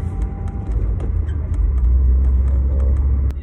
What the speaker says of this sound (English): Dragging a cone.